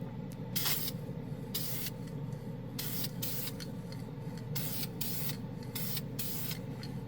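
A Dupli-Color spray can sprays white primer onto a plastic sheet in a series of short bursts of hiss, close and fairly quiet, over a low steady background hum.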